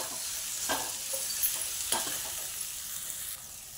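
Turmeric, chili powder and fresh coriander sauté in a hot pan with a soft, constant sizzle. A spatula stirs and scrapes in a few quick strokes close by.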